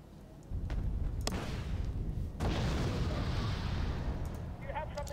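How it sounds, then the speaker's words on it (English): Bombing run explosions in the war game Wargame Red Dragon land as heavy rumbling blasts, a first burst followed by a second larger one that rolls on continuously, with sharp cracks layered over the low roar. "that bombing run might have been a bit out of place there"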